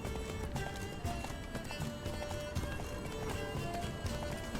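Horse galloping in the video game The Witcher 3: Blood and Wine, a rapid steady clip-clop of hooves running close and loud, with a brief snort or whinny and faint game sounds underneath.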